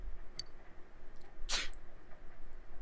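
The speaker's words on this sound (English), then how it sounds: "You sneezed." A game character in Persona 4 Golden lets out a single short, sharp sneeze midway through, standing out clearly against a quiet, low background hum.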